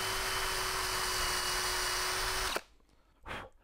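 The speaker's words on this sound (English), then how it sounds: "So there's a pilot hole off centre towards me." A power drill bores an off-centre pilot hole, running at a steady high whine for about two and a half seconds before stopping abruptly, followed by a short quieter burst.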